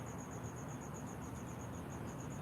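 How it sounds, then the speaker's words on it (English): A cricket chirps in a quiet room, giving a faint, high, evenly pulsing trill that runs steadily throughout over a soft background hiss, with no talking. "I have my hearing aids in. I could hear a cricket."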